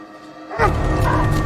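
A dog in a Walking Dead episode lets out sharp barks and yips after a quiet start, loud and close, with whimpering tones mixed in over faint background sound.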